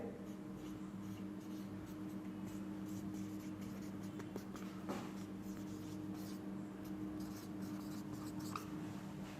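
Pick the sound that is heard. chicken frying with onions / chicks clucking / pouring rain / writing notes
writing notes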